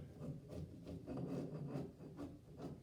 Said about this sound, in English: grab my scraper, and I do it in sections